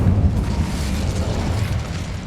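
A continuous, dense low roar from the Incendio fire spell in Hogwarts Legacy, cast inside an abandoned mine, holding steady and loud for its whole length with no voices over it.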